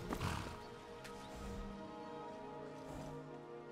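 Horse in the Skyrim Special Edition video game giving a loud whinny with hoof clip-clop, a strong burst at the start and then a sustained neigh that trails off over a few seconds with no talk.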